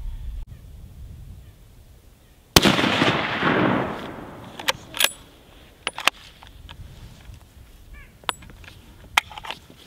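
A rifle fires during a Wisconsin deer gun season opener: one loud sharp shot with a long outdoor decay, followed by a few fainter sharp cracks and clicks spaced across otherwise quiet surroundings.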